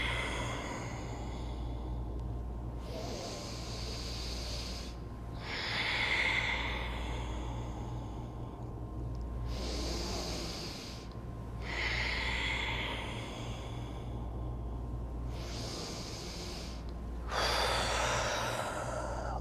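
Slow yoga breathing, with long airy inhales and exhales repeating every few seconds in a steady cycle, close and soft over a low background hum.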